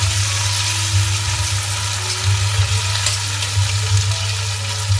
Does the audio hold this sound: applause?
no